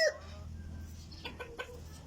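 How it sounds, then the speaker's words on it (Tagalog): Backyard fighting roosters clucking: a few short, close clucks and squawks from game fowl kept for cockfighting, set against a quiet outdoor hum, with a sharper call right at the start. "Ito pala yung mga manok ko mga idol"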